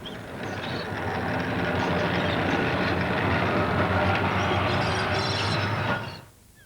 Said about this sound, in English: And Fleetwood is one of the last British towns with trams.